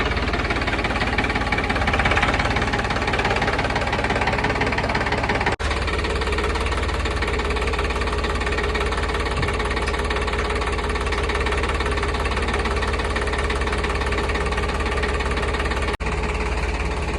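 A Farmtrac 30 Champion Hero diesel tractor with power steering and a modified diesel pump runs outdoors, its loud, close engine holding a steady knocking idle for the whole stretch with only brief dips.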